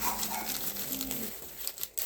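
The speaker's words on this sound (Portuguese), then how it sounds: "Cachorro da vizinha." A neighbor's dog barks in a noisy outdoor setting, its yelps muffled and partly buried under steady background hiss and rustling.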